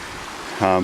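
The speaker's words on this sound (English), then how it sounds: "This is one of the creek crossings you have to do." Creek water rushes steadily at a trail crossing on the Sandspring Trail in Shartlesville, Pennsylvania, a continuous close wash of noise, with a voice starting to speak near the end.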